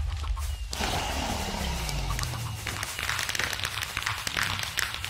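A video-game chicken clucks in a Minecraft-style world after a short quiet start, its clucks repeating over a busy game background.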